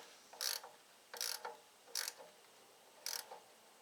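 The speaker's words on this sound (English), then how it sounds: "run your bolt in and snug it" A ratchet snugs a bolt on a machine's oil filter housing in four short, close bursts of clicking, evenly spaced, with quiet pauses between.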